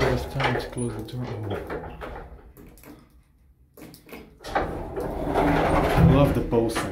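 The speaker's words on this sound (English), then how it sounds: "This one takes a bit of time to close the door." A small ATLAS Omega II traction elevator door slides closed slowly in a downtown bedding store, with mechanical rumbling and clunks around a brief quiet pause, and a person talking nearby through much of it.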